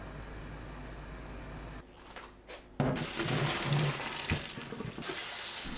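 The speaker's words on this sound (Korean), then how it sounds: "찬물에 헹굽니다." Cold tap water streams into a sink to rinse boiled kalguksu noodles, a steady close rushing flow that briefly drops and then splashes harder and more unevenly.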